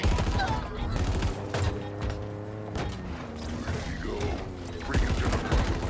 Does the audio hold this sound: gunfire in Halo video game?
yes